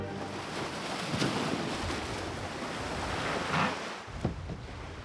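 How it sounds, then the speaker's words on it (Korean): Ocean waves wash and surge against the coastal rocks of Heuksando island at midday, a steady, broad rush of surf with swelling crests, wind noise buffeting the microphone throughout. "파도 소리가 싱싱한 한낮"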